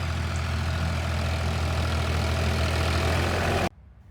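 A tractor engine drones steadily and loudly while spreading fertilizer in a potato field, a low, constant rumble that cuts off abruptly near the end, leaving faint background noise.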